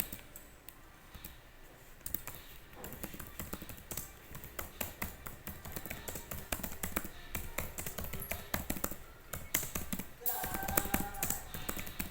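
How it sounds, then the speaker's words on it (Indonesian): Quiet, rapid clicking of a computer keyboard, irregular taps running steadily throughout, faint and close, with little else around. "Di sini teman-teman bisa mengetik"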